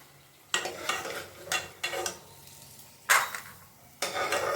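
Bori lentil dumplings fry and are stirred in hot oil, with a steady sizzle broken by several loud scraping stirs of a utensil in the pan, close up with no talking.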